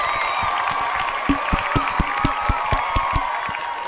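An audience claps steadily for an expert guest, the rhythmic claps landing about four per second over a sustained tonal hum in the room.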